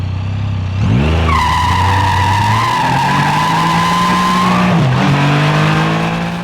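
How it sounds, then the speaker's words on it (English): A Can-Am Spyder F3S three-wheel motorcycle's engine roars up with traction control off as the tire spins and squeals in a long, loud screech that holds steady, then dips as the revs change near the end. "With the traction control off, you could hear there it was just full-on wheel spin"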